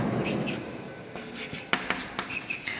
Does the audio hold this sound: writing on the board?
yes